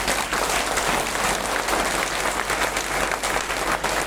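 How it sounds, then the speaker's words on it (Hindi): A large audience bursts into dense, sustained applause, clapping with both hands steadily and loudly for several seconds with no pause. "एक बार हाथ ऊपर उठा लीजिए और दोनों हाथ से ताली बजा लीजिए।"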